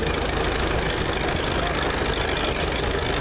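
An engine on a 1925 tractor, one of only two known still running, chugs steadily and loudly at a parade, its continuous rumble filling the scene without a break.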